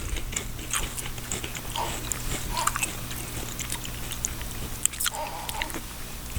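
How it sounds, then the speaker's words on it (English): A barbecue-flavored potato chip crunches in a few close, sharp bites with quiet chewing between them, set against a low steady hum. "So you're going to hear this crunch."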